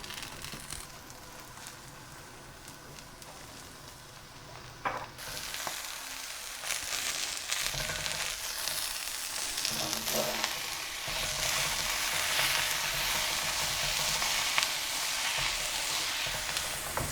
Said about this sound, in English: all of this is going to melt with the heat from the dosa batter in the pan